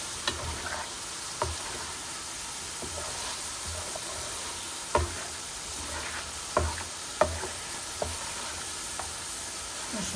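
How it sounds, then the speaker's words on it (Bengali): Tengra fish coated in spices and salt sautéing in a hot pan, with a steady close sizzle broken by a few sharp clicks of a spatula stirring against the pan. "এখন মাছগুলো একটু কষানো হোক"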